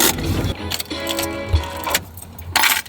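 Car keys jangle in short metallic rattles close to the microphone, with faint background noise and a brief soft voice.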